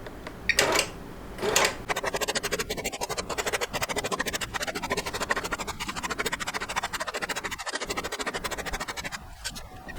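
A Grace QCT5 computerized longarm quilting machine bastes a quilt, a steady rapid mechanical clatter of stitching that runs continuously after a couple of brief handling noises at the start.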